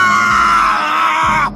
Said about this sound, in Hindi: एक भयानक तूफानी रात को राय हवेली के अंदर से एक चीख गूंजी।